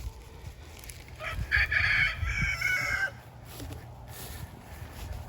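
Chickens in a meat chicken coop cluck and crow, with a run of loud, close calls in the middle over a steady outdoor rumble of wind.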